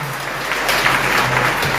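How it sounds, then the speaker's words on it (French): Church congregation clapping in steady applause during a sermon, a dense, fairly loud wash of hands with a faint background hum. "un applaudissement pour ça"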